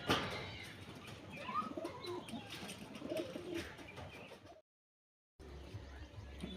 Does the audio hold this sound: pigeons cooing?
yes